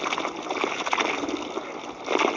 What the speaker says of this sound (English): They are coming, taking bath and going back in the trees.